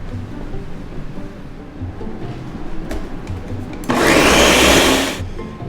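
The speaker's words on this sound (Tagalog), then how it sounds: "And now I'm adding 2 cups of water into the blender." Blender whirring loudly through shrimp shells and heads with added water, a dense roar starting abruptly after quiet room noise, running about a second and a half, then winding down.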